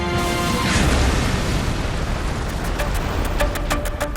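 Artillery and tank gunfire from a Yom Kippur War tank battle, a loud, dense roar of booms with a heavy blast near the start and sharper cracking reports toward the end, continuous and without speech.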